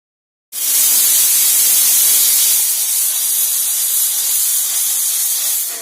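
A pressure cooker suddenly starts venting steam in a loud, forceful hiss that holds steady for several seconds, close by.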